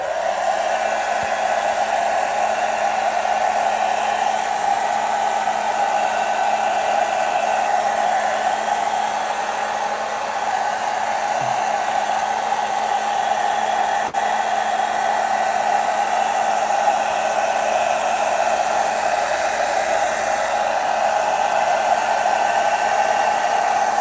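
An air blower runs gently over 1:48 scale scrap yard diorama scenery, giving a continuous, steady, close whooshing hum with no pauses and no voices.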